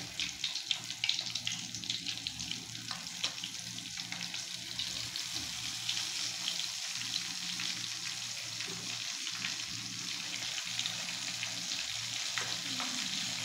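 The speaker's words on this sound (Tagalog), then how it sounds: "Ganyan natin dahil kumukulo na yung mantika." Chicken feet fry in boiling oil, giving a continuous crackling sizzle with rapid pops, fairly close and steady from start to finish.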